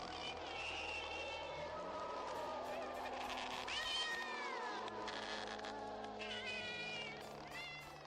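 A cat meows repeatedly in long, wavering, drawn-out calls, fairly close and loud, over a steady background hum with some talk mixed in.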